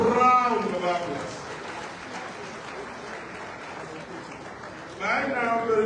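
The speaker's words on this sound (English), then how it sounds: "give yourself a round of applause" Audience applause fills a hall during a live-streamed ceremony, a broad steady patter of many hands that swells at the start and again near the end, with a speaking voice over it at both edges.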